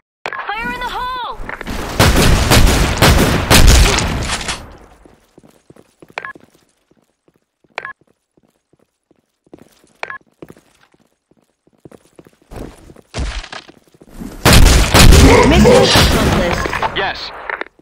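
Gunfire and explosions in the online shooter Blackshot, loud bursts of rapid fire and blasts near the start and end, with sparse single shots between and a voice calling out over the action.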